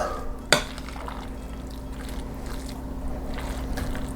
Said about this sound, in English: Dump this can in here. All right, now we'll give that a quick little stir in.